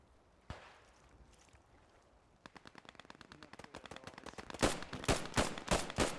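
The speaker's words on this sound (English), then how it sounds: "Just fire everything. You don't need to be accurate. As long as you fire enough bullets, you're bound to hit something, right?" Gunfire from weapons in the video game Post Scriptum: one early shot, then a rapid burst of automatic fire that grows louder and heavier, ending in several booming shots.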